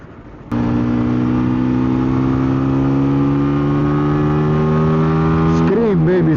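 Close, loud revving from a Zontes G1 Scrambler motorcycle engine, kicking in abruptly and holding a steady high pitch before wobbling throttle blips near the end.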